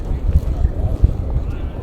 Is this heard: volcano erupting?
yes